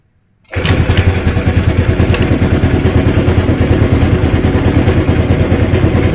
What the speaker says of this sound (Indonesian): Oke, dihidupin motornya mas,